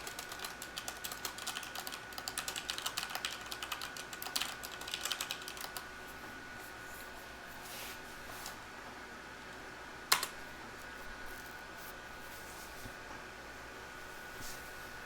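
Rapid clicking of typing on a computer keyboard, close and busy for the first several seconds, then thinning to a few scattered keystrokes and a single sharp click over faint room hum.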